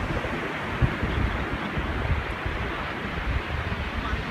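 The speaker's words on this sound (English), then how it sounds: "Just came out of the jungle, down to the beach." Steady ocean surf washes onto a huge beach in Uvita, Costa Rica, a continuous broad roar with soft swells and some wind buffeting on the microphone, and no voices.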